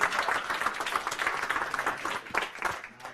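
Audience applause at a live Cashflow 101 game event, a dense, steady wash of many hands clapping close and loud throughout, tapering slightly at the end.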